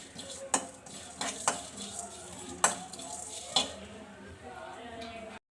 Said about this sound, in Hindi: इनको हल्का सा ड्राई रोस्ट करते हैं